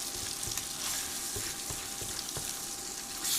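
Food frying in a cast iron skillet on an induction burner, a steady close sizzle with light scraping and stirring knocks throughout.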